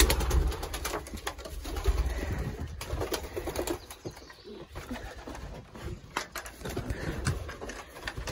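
Racing pigeons coo and flap their wings nearby in a loft during trap training, a steady murmur of soft coos broken by bursts of fluttering.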